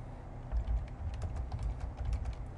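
A profile bio is typed on a computer keyboard, with close, continuous rapid key clicks and soft thumps at a steady pace throughout and no talking over it.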